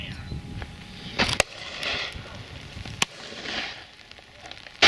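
A shotgun fires at a driven game shoot outdoors, with a couple of sharp cracks standing out against wind and handling noise, and someone speaking around them.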